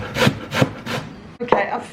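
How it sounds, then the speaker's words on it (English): Fresh beetroot rasped against a grater in a home kitchen, three or four close, scratchy strokes in a steady rhythm, with no talk over them. "I've finished grating my beetroot"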